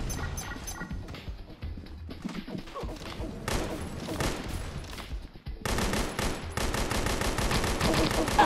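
Video game gunfire aimed at enemies' heads comes in rapid automatic bursts, quieter at first, then louder, sustained strings of shots after a short lull, with faint voices in the background.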